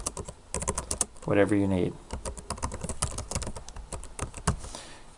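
Fingers type on a computer keyboard while a note is entered in software, producing quick clicking keystrokes under a person speaking.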